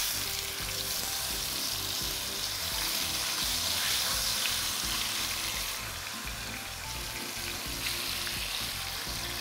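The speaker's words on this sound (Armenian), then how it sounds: "բանջարեղենով համեմված ուսայուղի մեջ տապակում ենք մսակտորները" Pork pieces fry in oil seasoned with vegetables for a pork-neck stew, a steady, dense sizzle that holds at an even level throughout with faint crackles on top and no talking.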